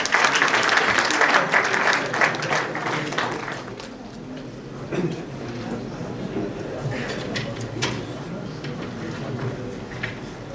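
Seminar audience gives a sustained round of applause welcoming a speaker, dense and loud at first, then thinning into scattered claps with murmuring voices.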